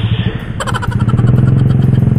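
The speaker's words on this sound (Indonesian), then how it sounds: "Kaget gua, tiba-tiba ada motor nyelonong." A motorcycle engine cutting suddenly through a traffic jam on a congested road, loud and close, its pulsing exhaust note building quickly to a steady, rapid, throbbing drone.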